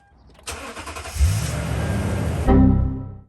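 A Toyota Tundra's 5.7-liter 3UR-FE V8 cranks briefly, catches and fires up into a loud, rumbling idle close by, its note rising as the engine starts, with no talking over it.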